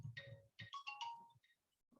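Phone ringtone playing a short melodic sequence of chiming tones, a few quick notes then pauses, faint and alone in a quiet room.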